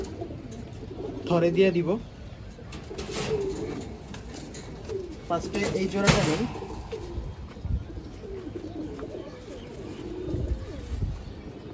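Khaki pigeons coo in a loft, low throaty calls rising in bursts around the middle and end, mixed with rustling, while someone talks over them throughout.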